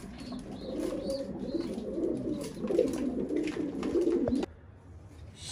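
Several İzmir mail pigeons coo softly and steadily in a loft, their low rolling calls overlapping for about four seconds before fading to quiet background.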